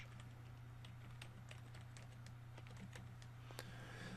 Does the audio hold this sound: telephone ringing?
no